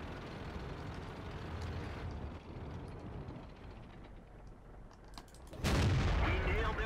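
A tank destroyer's cannon shot in World of Tanks, one sudden loud boom near the end that cuts through a steady low engine rumble.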